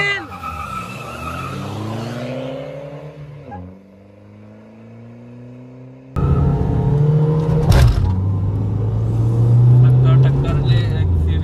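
A Mahindra XUV500 and a Scorpio S11 accelerate hard in a drag race, with engine roar rising through gear changes, tire noise and a loud rumbling passage after a sudden shift. Excited voices shout over the engines.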